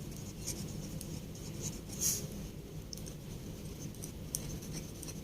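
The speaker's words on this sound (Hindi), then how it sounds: "अब यहाँ सेकेंड एंट्री लिखते हैं।" A pen scratches across paper while an accounting entry is written out in a class lesson, soft close scribbling with a few sharper strokes, faint and continuous with no talk.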